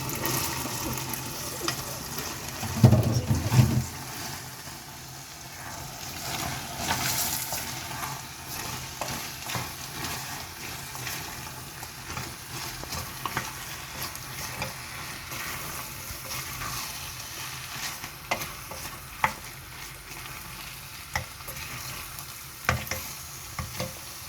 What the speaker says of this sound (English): Now I'm going to add the beans inside.